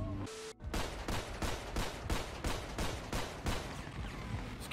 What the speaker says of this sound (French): C'est qui tire là? C'est qui tire?